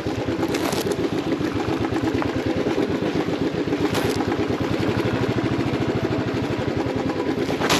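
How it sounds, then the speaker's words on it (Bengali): An off-road motorcycle descends a rough mountain road on engine braking, its engine a steady, close, low rhythmic thrum of rapid firing pulses throughout. "ব্রেক না, ইঞ্জিন ব্রেকে নামো।"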